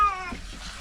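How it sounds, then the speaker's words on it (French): A pet cat gives a single short meow, close and clear, fading quickly into quiet. "Le nôtre, à part miauler, il dit pas grand chose."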